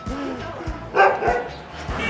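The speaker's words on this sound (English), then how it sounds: "This dog's barking because a car just drove too close to him." A dog on a street in Kathmandu gives several short barks and yips after a car passes close to it, heard at moderate distance among street noise and people talking nearby.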